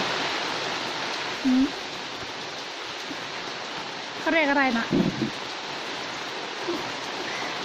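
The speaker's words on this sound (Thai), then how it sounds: "เห็นกันไหมฝนตกนี่แหละ" Steady rain falls outside a rural house, a dense, even hiss that continues throughout while a voice speaks briefly over it.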